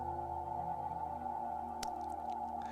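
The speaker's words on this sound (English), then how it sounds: "That is the sound of the early universe, the leftover remnants of the Big Bang," A sustained, eerie electronic drone, a sonification of the early universe's Big Bang remnants, with layered steady tones and a single sharp click partway through, played alone at low volume.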